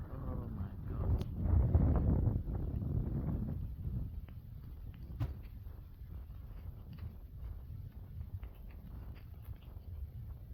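Strong, cold wind blowing through the streets of Bath in rainy weather, a steady rushing roar buffeting the microphone, strongest in the first few seconds and then settling into a constant lower gust.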